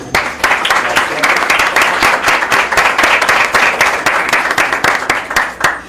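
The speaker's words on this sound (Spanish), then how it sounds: "Un aplauso para el profe Ildefonso." An audience claps steadily for a university professor at a journalism panel discussion, a dense, sustained applause with many hands overlapping throughout.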